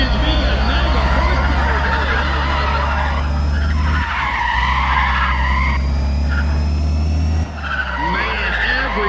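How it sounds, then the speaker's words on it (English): Race car engines roar loud and constant in a street race in the video game Need for Speed: Pro Street, with tires squealing and skidding, the pitch shifting with gear changes, under excited commentary. "Listen to those engines. We got mega horsepower."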